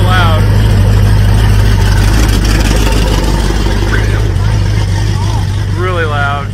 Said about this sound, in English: This thing's a twin turbo front exhaust, so forgive us for being so loud.